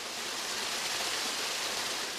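Artificial waterfall at a hospital, a steady, dense rush of falling water filling the space evenly and continuously, close and alone with no voices.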